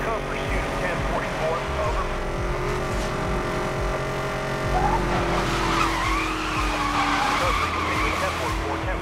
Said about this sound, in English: Beautiful drift there.